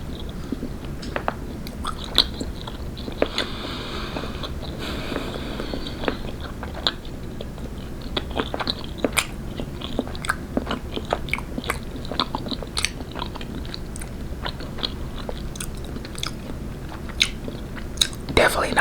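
Licorice being chewed up close, ASMR style, with repeated sharp bites and crunchy, sticky chewing in an irregular rhythm throughout, loud and intimate against a quiet background.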